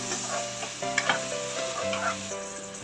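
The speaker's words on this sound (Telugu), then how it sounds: "ఇప్పుడు ఒకసారి కలిపేసుకుందాం అండి మొత్తం" Chicken and potato curry being stirred in a pan just after salt goes in, a spoon scraping and clinking through the mixture over a steady soft sizzle, close and moderately quiet with no talking.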